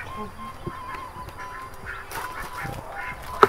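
Ducks quack intermittently at a distance over a busy outdoor background of birds and rustling in a rural village in Tasikmalaya, Indonesia, with a sharper honk near the end.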